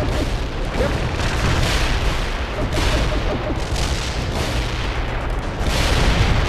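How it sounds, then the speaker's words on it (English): Napalm strike explosions roll through World in Conflict as loud, dense, overlapping booms and blasts. The roar is continuous and sustained, with repeated surges. "This is Stoker. Napalm strike completed."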